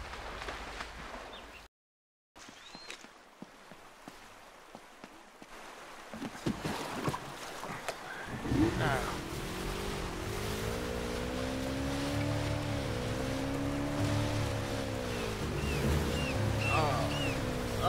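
Motorboat engine droning steadily while traveling upriver in the video game Uncharted: Drake's Fortune, with water splashing and a rising, wavering hum that settles into a loud continuous run after a quiet, brief silent start.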